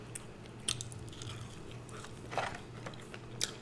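Someone eating Raising Cane's fries and chicken at close range, with soft chewing and a few sharp crunchy bites standing out against a quiet low background hum.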